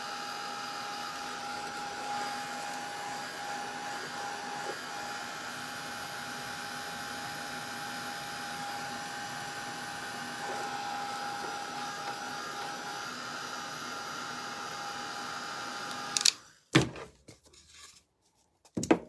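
A handheld dryer blows a steady, close whir while drying a snowman shelf sitter craft, then shuts off near the end, followed by a few handling clunks.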